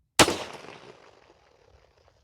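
A single sharp launch blast from a Vietnam-era surplus launched grapnel hook fired outdoors toward a dirt berm, a loud close report with a decaying tail of echo and rumble.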